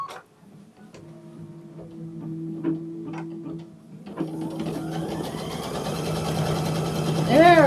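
A sewing machine stitches with a steady mechanical whir and rhythmic ticking, pausing briefly, then running again faster and louder toward the end, close by.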